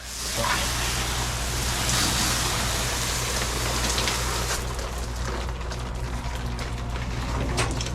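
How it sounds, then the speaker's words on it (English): A garden hose sprays water across the hull of a Cape Horn 31T boat being cleaned. It makes a loud, steady, close hiss of spray that runs unbroken throughout, with no voices. "I'm just gonna hose all that off"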